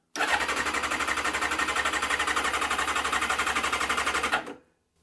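A Kawasaki ZZR 600 sports motorcycle from the 1990s fires up and runs with a steady, loud, buzzy engine drone for about four seconds before cutting off abruptly.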